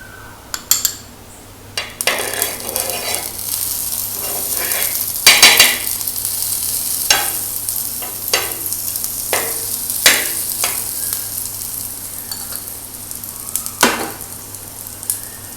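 Banana pancake batter frying in butter in a pan, a continuous close sizzle broken by sharp clinks and scrapes of a utensil against the pan.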